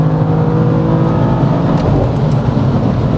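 A BMW M4 GTS engine pulls hard in fourth gear from about 4000 to 5000 rpm, a loud, continuous close-up roar of acceleration with no pauses.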